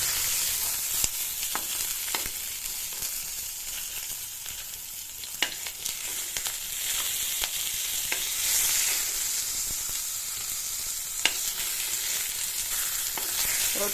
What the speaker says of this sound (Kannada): ಈ ರೀತಿ ಎಣ್ಣೆಯಲ್ಲಿ ಫ್ರೈ ಮಾಡಿಕೊಂಡು ಒಂದು ತಟ್ಟೆಯಲ್ಲಿ ತೆಗೆದಿಟ್ಕೊಳ್ಳಿ